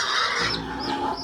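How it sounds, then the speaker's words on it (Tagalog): A pig grunts and squeals close by on a rural property, one short harsh vocal burst with no voices over it. "Ang baboy ng mama ko."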